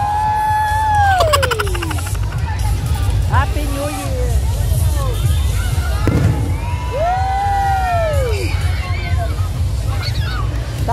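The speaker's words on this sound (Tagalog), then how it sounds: "Fireworks. Happy New Year." New Year fireworks whistle upward and burst over a crowd in the Philippines, rising whistles and repeated bangs spread through the clip over constant babble, shouts and cheering.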